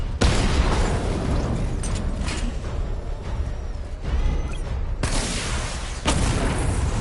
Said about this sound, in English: Missile barrage level 1 ready.